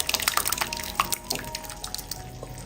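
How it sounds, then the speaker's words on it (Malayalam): Cooked vegetables tipped from a pot into dosa batter for sambar, a wet splashing and dripping pour with scattered liquid drops, moderately loud and continuous with no talking. "ഈ ഒരു സമയം വേവിച്ച് വെച്ചതെല്ലാം കൂടിയിട്ട് ഇതിലേക്ക് അങ്ങ് ഒഴിച്ചു കൊടുക്കാം."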